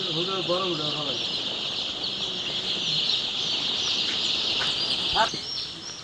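Chickens crowd a poultry shed after vaccination, a steady mass of high chirping and peeping throughout with occasional clucks, while a person talks near the start.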